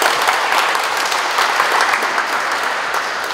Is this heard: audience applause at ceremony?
yes